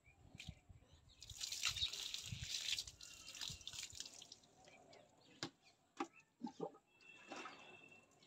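Water running and splashing while shampoo is rinsed out of hair during a blindfolded hair wash, a faint stream with dripping and a few louder splashes.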